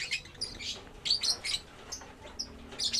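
Lovebird chicks in a cage at night give high, thin chirps and tweets in quick, uneven clusters, close and fairly soft, with no voices.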